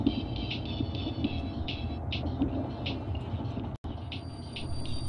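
Steady rumbling train ride inside a Nintendo Direct game trailer, a continuous low rolling noise with faint high tonal hums and a brief dropout near the end, no talking.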